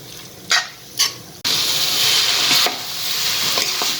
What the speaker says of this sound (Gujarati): 2 ચમચીથી આપણે હલાવી લઈશું, એટલે બધી જગ્યાએ મસાલો અને સોસ લાગી જશે.